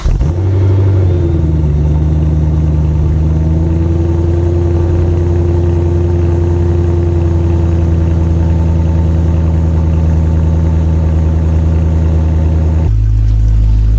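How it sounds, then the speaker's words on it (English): A BMW E92 M3 idles steadily with a deep, loud exhaust drone that holds even for about thirteen seconds, then shifts abruptly to a lower tone near the end. No revving and no voices. "that should pick up the exhaust sound"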